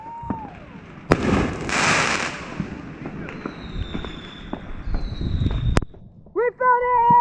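Mini rocket fireworks on New Year's Eve launch with a sharp pop and a loud whooshing burst, followed by crackling and further bangs nearby, with people shouting over them.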